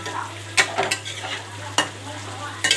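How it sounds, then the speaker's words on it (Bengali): Kachu (taro) masala is stirred in a pan after a little water goes in, giving a steady low sizzle broken by a few sharp scrapes and clinks of the spoon against the pan. "জল দিয়ে নাড়াচাড়া করতে থাকুন, আস্তে আস্তে নাড়তে থাকুন"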